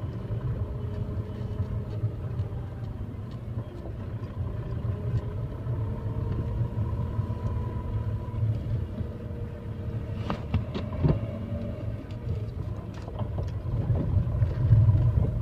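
A Tata Tigor car's engine drones steadily while the car drives uphill in second gear, a continuous low rumble heard from inside the cabin with a few faint knocks and thumps.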